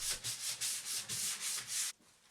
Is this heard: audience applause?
no